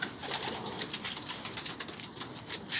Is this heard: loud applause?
no